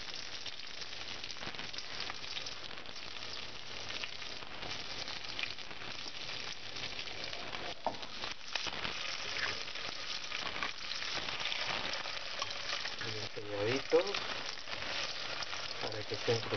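Bacon-wrapped dates sear in a frying pan, giving a steady crackling sizzle that continues through the whole stretch with some faint background noise.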